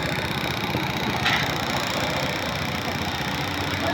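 A Kawasaki Bajaj CT 125 motorcycle, restarted after five months unused, idles close by with a continuous, even engine rumble throughout.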